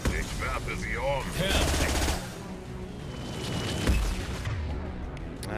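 Gunfire in the video game Mass Effect Legendary Edition, dense bursts of automatic weapon fire and impacts running throughout, mixed with game effects and a voice talking over it.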